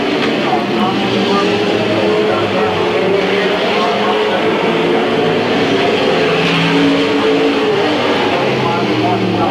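Race cars roaring around Midvale Speedway in 1995, a loud continuous engine drone from the pack under a race announcer's steady commentary.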